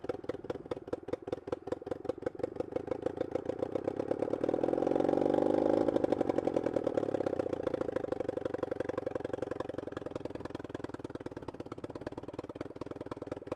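An old motorcycle that is not road legal runs close by with a rapid thumping idle, swells to a louder rev in the middle, then settles back to a steady chugging beat, with no one talking.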